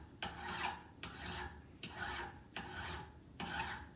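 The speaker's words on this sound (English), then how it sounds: "So I'm going to continue to file this" A metal file rasps across a hammer head, smoothing out hacksaw marks: five steady strokes in a regular back-and-forth rhythm, each a bright scraping burst with brief pauses between, close and moderately loud with no talking.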